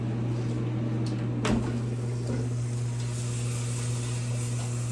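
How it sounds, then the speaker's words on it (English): Microwave oven cooking oatmeal, a steady low electrical hum with a constant tonal drone running unbroken, close by, with a brief clack partway through. "so my oatmeal's in the microwave cooking."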